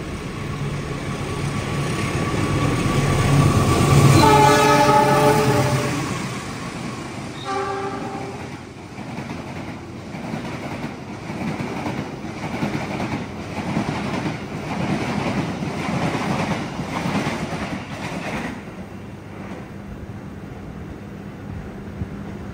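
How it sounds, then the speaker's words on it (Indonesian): Mutiara Selatan passenger train passing straight through on track 2, heard from nearby. It sounds a loud horn blast, then a second, and a long rumbling clatter of wheels follows before fading out. "awas hati-hati jalur 2 dari arah barat berjalan langsung kereta api Mutiara Selatan"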